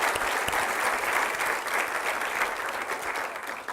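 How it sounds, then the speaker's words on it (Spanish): Church congregation applauding women being honored during a service, a steady, dense wash of clapping throughout without a break, fading slightly at the end. "Vamos a darle un aplauso a las mujeres entregadas."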